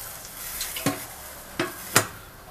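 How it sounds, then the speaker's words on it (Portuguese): A spoon scrapes and clinks in a pot of dobradinha (tripe and bean stew) a few times over a faint steady sizzle, with no talking. "Agora vamos dar mais uma mistura."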